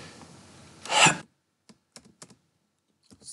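A computer keyboard is used for a Ctrl+R shortcut. One louder, close key press is followed by a few soft, scattered clicks in a quiet room.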